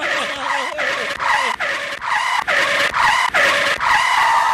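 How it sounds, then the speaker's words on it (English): Cars skid on a highway after cash spills from an armored car, producing a series of loud, close tire screeches in rapid bursts that repeat for several seconds with no talking. "cars were like skidding"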